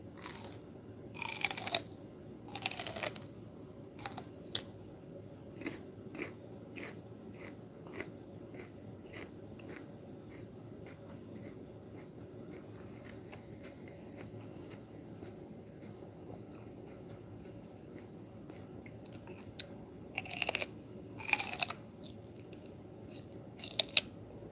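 Crisp crunching bites of raw celery come in quiet, scattered bursts, with small chewing snaps between louder clusters near the start and end, close to the ear.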